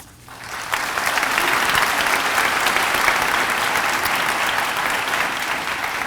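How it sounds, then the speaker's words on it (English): Applause from the audience at a medical school white coat ceremony for the MD Class of 2024 swells in after a brief quiet start, then holds as a dense, steady ovation for several seconds. "we want to applaud you for all the progress made and for all that you have achieved so far"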